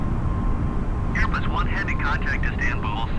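Airbus A320 taking off and climbing in Microsoft Flight Simulator 2020, a steady broad engine roar from start to finish, with someone talking over it during the second half.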